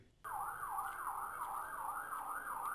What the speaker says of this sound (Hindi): एम्बुलेंस का तेज सायरन मेरे कान में गर्म शीशे की तरह लुढ़का जा रहा था।